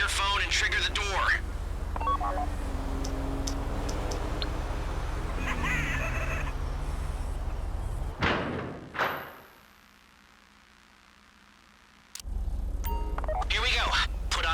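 In GTA V, a phone dials to trigger a bank vault door during a heist, with short tones and thuds under game sound, then a sudden drop to near silence before noise returns.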